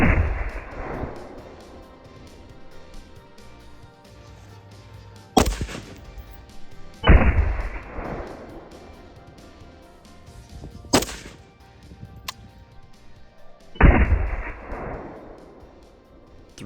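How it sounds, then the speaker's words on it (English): Three AK-74M rifle shots strike an armor plate at intervals of several seconds, each a loud, sharp crack with a ringing tail, with a few smaller knocks in between. "Three shots consistently at 3000 FPS."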